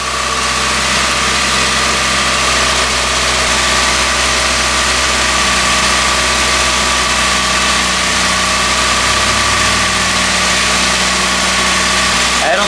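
A 2ZZ-GE car engine starts and runs at a steady idle, loud and close, with a constant rumbling drone throughout.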